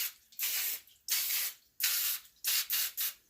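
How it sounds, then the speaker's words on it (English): Six short bursts from a spray nozzle, each a sharp hiss lasting about half a second, with brief pauses between them. "I have to spray these"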